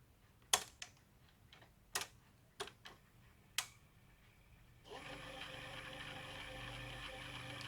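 Mechanical clicks from a National NV-BS1 S-VHS VCR, a handful of sharp separate ticks as tape loads, then a steady whirring hiss as the cassette rewinds at speed, close and fairly quiet.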